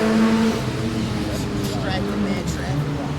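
A car doing a burnout on a city street, its engine revving loud and steady over a rumbling background, with people talking nearby.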